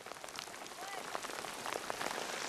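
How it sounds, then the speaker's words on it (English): Heavy rain pours steadily on the water during an outdoor kayaking trip, a dense close hiss with scattered drop impacts and faint voices mixed underneath. "rain's coming pretty heavy"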